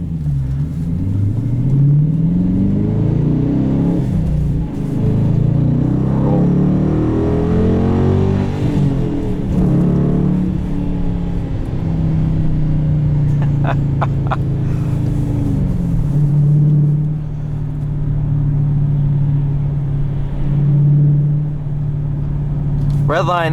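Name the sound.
2018 Dodge Challenger Shaker 5.7 V8 engine revving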